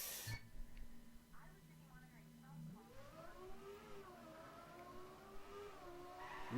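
Race cars in TrackMania whine and rev through gear changes, engine pitch sweeping up and down over several seconds at moderate loudness, with skidding hints and a commentator talking over them.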